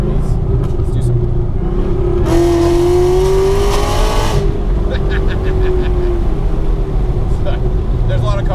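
A Whipple-supercharged car cruises with a steady engine drone, then accelerates with a rising whine for about two seconds before easing off, and voices talk over it.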